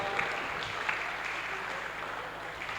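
A conference audience claps steadily throughout a talk on creating wealth, a dense, even wash of many hands heard at a moderate distance with no speech over it.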